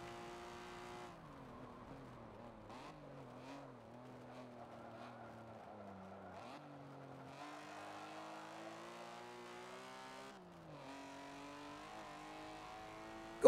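A race car's engine in Forza Motorsport 7 hums in a steady, rising tone through several gear changes, each shift dropping the pitch before it climbs again. It sits fairly quiet and unbroken throughout.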